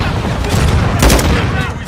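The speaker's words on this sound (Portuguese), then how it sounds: "Mandando bomba anti-bunker." A bunker buster bomb strike in the war shooter Call of Duty, loud dense bursts of gunfire and explosive booms packed together, with a heavier impact near the middle, mixed with voice chatter.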